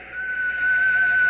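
A low, clear whistle used as a sound effect in a Sherlock Holmes radio mystery drama, a single sustained steady tone held alone and close for about a second.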